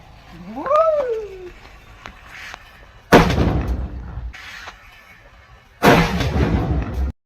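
A firecracker wrapped in extra string goes off outdoors during Diwali, giving two loud, sharp bursts a few seconds apart, each trailing into a crackling rumble, after a brief cat-like cry at the start.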